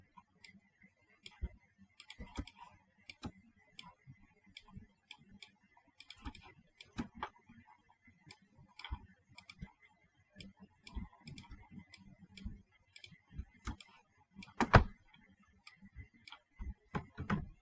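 Sparse, sharp computer mouse clicks tick out at irregular intervals, with a few louder clicks among them, close up and unaccompanied by talk, while someone traces outlines with Photoshop's pen tool.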